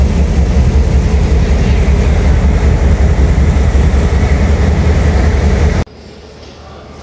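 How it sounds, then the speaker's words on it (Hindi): The Karakoram Express rake rolls into a station in Pakistan, a loud, steady, close rumble of railway cars that stops abruptly near the end and gives way to quieter platform ambience. "कराकरम एक्सप्रेस का रैक आ गया है"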